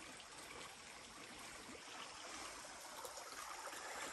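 A creek or river flows steadily across a farm's river bottom, its close, continuous rushing and trickling holding even throughout with no voices.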